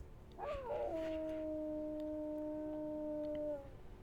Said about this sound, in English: We're gonna howl.